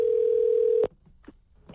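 A telephone ring tone during a radio morning show call to a contest winner, one long steady tone that cuts off sharply, followed by faint line noise and clicks.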